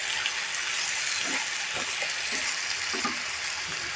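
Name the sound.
hog plums cooking in melting sugar, caramelising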